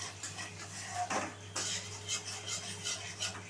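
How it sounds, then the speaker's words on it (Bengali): Spice masala with cumin powder and a little water sautés in a pan, heard as soft scraping and clinking of a spoon stirring against the pan over a faint low hum, with no talking. "জল দিয়ে ভালো করে একটু কষাতে হবে।"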